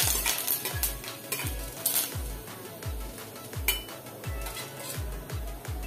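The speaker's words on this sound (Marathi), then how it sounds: "तेल तापलेलं आहे. आता याच्यामध्ये घालायचं आहे आपल्याला जिरं, कढीपत्त्याची पानं" Cumin seeds and curry leaves crackle in hot oil for a fasting-day bhagar upma, a steady loud sizzle broken by regular scraping stir strokes roughly every half second, with no voices.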